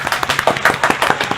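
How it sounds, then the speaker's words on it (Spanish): Brief, close clapping from a small radio studio audience, a quick run of sharp hand claps with an uneven, scattered rhythm. "Sí, un aplauso"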